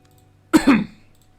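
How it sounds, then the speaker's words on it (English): A single close, abrupt cough with a throaty, double-pulsed burst, standing alone against near silence. "this cough never disappeared."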